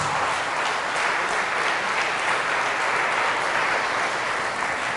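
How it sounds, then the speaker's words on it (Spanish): Church congregation applauding loudly after a Gospel reading at a religious service, steady thick clapping from many hands that holds at an even level throughout. "Fuertes aplausos a la palabra de Jesús."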